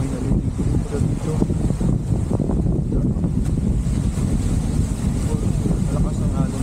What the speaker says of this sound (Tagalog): Malakas ang alon lang.